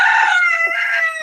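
A single rooster crows loud and close indoors in a home living room, one sustained, strained call lasting just over a second with no voices over it.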